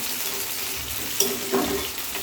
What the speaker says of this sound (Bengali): দিয়ে আমি সুন্দর করে ভেজে নেব দুটোকেই।